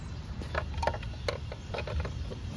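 A ratchet strap is cinched down on a Mototote M3 hitch-mounted motorcycle carrier with a fork saver, giving a few close, separate mechanical clicks spread over a steady low background rumble.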